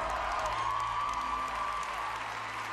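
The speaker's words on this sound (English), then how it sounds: "A big round of applause" Audience applause for a clairvoyant act at a televised talent show, a steady wash of clapping from a crowd that holds at an even level for the whole stretch, with no talk over it.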